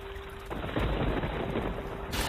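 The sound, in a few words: typhoon rain and thunder, cartoon sound effect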